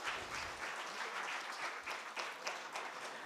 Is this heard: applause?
yes